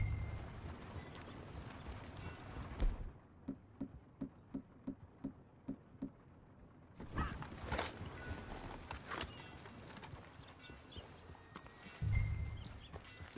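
Horse hooves clip-clopping in Red Dead Redemption 2, a steady run of evenly spaced hoofbeats in the middle, with more rustling movement and ambient noise before and after.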